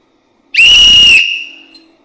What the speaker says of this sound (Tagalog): So, nahanap ko yung pito ko.